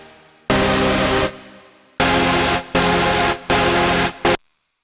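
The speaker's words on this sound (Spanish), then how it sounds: "Y esto es un ultra saw." An ultra saw synth lead made in FL Studio plays a bright, buzzy rhythmic phrase: one long chord followed by several shorter stabs with abrupt cutoffs, loud and alone.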